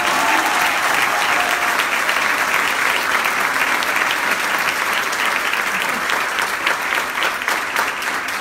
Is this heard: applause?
yes